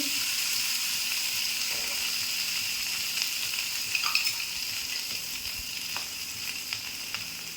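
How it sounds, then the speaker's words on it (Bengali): Lightly steamed potatoes fry with a little turmeric in a wok, making a steady, close hissing sizzle. A few sharp utensil clinks and stirring sounds come near the middle and the end. "আলুটা 5 মিনিট ভেজে নেবো একটুখানি হলুদ দিয়ে"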